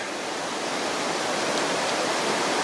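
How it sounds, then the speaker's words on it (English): Water pours over a small weir on a river, a steady, dense rushing roar heard up close with no pauses or voices. "that is one of the small weirs"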